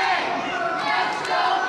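A wrestling crowd at an NWA CIW Powerbomb television event roars and yells together indoors, a dense, steady mass of voices filling the whole short stretch.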